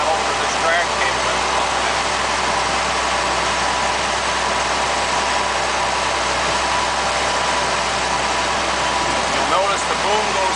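A Bucyrus Erie 10B dragshovel engine runs steadily throughout while the machine is operated, a continuous loud mechanical drone under a person talking.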